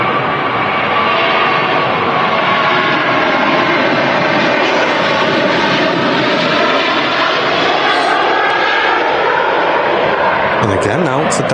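Lufthansa Airbus A321 airliner, eleven years old, coming in to touch down at Manchester Airport, a loud steady broadband jet roar filling the scene throughout with a slowly shifting engine tone, while people talk nearby.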